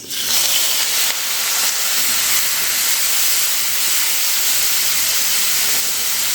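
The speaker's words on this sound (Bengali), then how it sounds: "এবারে ওই তেলের মধ্যেই ভেজে নেব আগে থেকে মাখিয়ে রাখা সেই চিংড়ি মাছ" Steady, loud hissing sizzle of marinated shrimp frying in hot oil, continuous and dense throughout.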